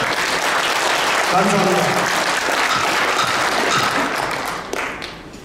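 Sustained applause from the assembly at the 2017 Korea University AMP alumni association annual general meeting, approving an agenda item, a dense steady patter of clapping that fills the hall and tapers off near the end, with a brief spoken thank-you over it.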